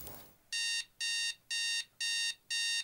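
An alarm clock beeps in five evenly spaced, shrill bursts, loud and clear against a quiet background.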